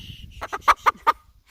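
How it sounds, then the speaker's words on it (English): A broody hen gives a rapid series of about five short, harsh clucking grunts, close and fairly loud, with a faint rustle before and after. "broody hen who just wants to be sitting on eggs right now."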